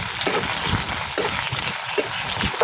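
Cumin seeds, garlic and curry leaves fry in hot oil in a pan, making a steady, loud, close crackling sizzle throughout, with no voices.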